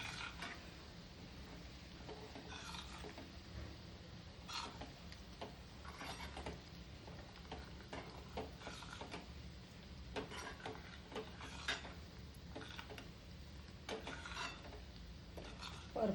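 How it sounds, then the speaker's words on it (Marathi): Pickle masala for raw mango pickle being stirred and sautéed in a pan on a gas stove, with steady faint sizzling and frequent soft scraping and clinking of a spoon against the metal pan, no talking. "व्यवस्थित परतून घेऊ चांगलं।"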